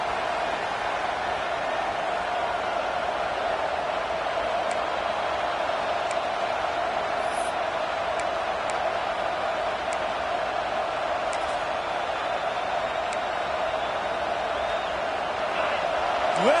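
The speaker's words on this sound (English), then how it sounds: "Listen to this crowd just shaking the girders of this place, trying to help their defense." Football stadium crowd roaring steadily to help the home defense, a dense continuous wall of noise with occasional whistles and shouts rising above it, loud and sustained throughout.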